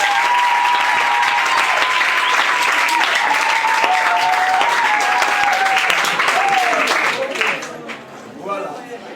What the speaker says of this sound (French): je vous demande de bien vouloir applaudir très fort pour les autorités